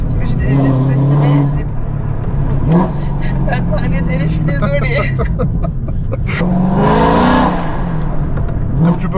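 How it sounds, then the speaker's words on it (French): A Mercedes-AMG C63 with a modified exhaust revs hard from inside the car, its engine rising and falling in loud surges with whooshing peaks, while a voice talks over it throughout. "Comme tu peux constater au niveau de la sonorité du moteur, le pot d'échappement de cette voiture a été modifié"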